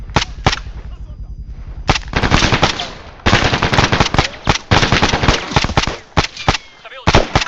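Rapid machine gun bursts in the video game Arma 3, loud and close, firing in repeated volleys with short pauses between them.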